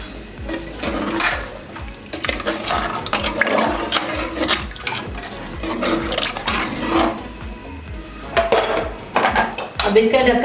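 Lentils and water, about three glasses, being stirred together in a metal cooking pot for dal, with busy, irregular scraping and clattering of a spoon against the pot throughout, close and fairly loud.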